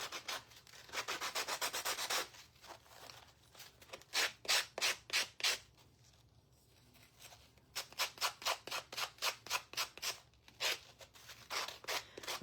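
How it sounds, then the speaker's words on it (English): A Gator power sander with 80 grit sandpaper scrubs wood in quick, rhythmic rasping strokes. Several fast runs of strokes are close and clear, broken by short quiet pauses. "I need a new piece of sandpaper on my Gator sander."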